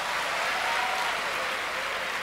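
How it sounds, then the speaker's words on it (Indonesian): An audience applauds at an official meeting with a regional leader, steady dense clapping filling the whole moment without pause, fairly loud and close, with no clear talk over it. "Tepuk tangan."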